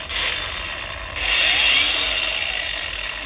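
A power cutting machine running steadily, a loud high whine and grinding hiss that swells and grows denser partway through, with no one talking over it.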